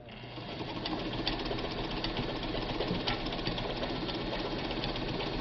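A Ford Deluxe sewing machine stitches a steady straight seam, its close mechanical whirr and rapid needle knocking running continuously and evenly from start to finish with no talking.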